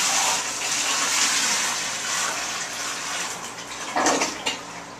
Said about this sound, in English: So I'm going to pour a bucket of water.